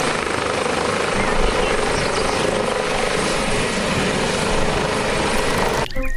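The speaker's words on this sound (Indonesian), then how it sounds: "Wih, ternyata helikopter." Continuous whirring rotor and engine drone of a helicopter, loud and steady, sounding as a toy helicopter during a cleaning of toy vehicles, with a brief cut at the very end.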